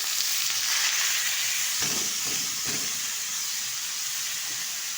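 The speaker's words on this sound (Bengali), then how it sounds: "তেলটা গরম হয়ে যাওয়ার পর দিয়ে দিয়েছি খুব সামান্য পরিমাণে কিছুটা কালো জিরে ফোড়ন দিয়ে দিচ্ছি" Nigella seeds and chopped banana stem fry in hot oil, giving a loud, continuous close hiss and sizzle, with a few soft stirring scrapes partway through.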